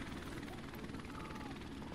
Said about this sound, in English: I didn't realize I was sitting there on a helicopter.